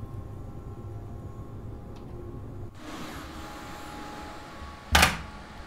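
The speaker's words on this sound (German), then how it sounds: "Sorry, meine Maus ist mir einmal auf den Tisch geknallt." A computer mouse bangs onto a desk in a single sharp, loud knock near the end, over a steady hum of train-simulator engine and rail noise.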